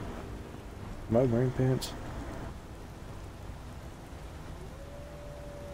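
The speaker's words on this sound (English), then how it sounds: "And now it's raining." Steady rain and rumbling thunder in the modded Skyrim Special Edition video game hiss through the whole stretch as a continuous wash, with someone speaking briefly near the start over it.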